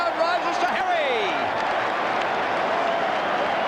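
Football crowd at a 1995 AFL preliminary final between Carlton and North Melbourne, roaring and applauding steadily throughout as a commentator's voice rises over the dense, loud stadium noise.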